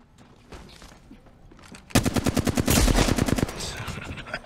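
Rapid automatic gunfire in the Apex Legends battle royale, a loud sustained burst of dense, evenly spaced shots that trails off into scattered shots and game noise, with faint speech in the background.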